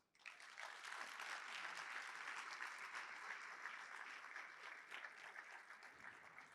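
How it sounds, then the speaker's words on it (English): Sustained audience applause fills a hall at an annual scholarship awards celebration, a dense, steady wash of clapping that swells quickly and holds loud throughout before easing slightly at the end. "A round of applause"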